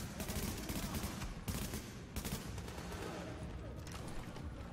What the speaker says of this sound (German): Zwei gezielte Schüsse auf die Tanks.